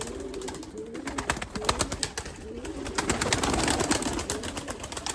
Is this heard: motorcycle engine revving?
no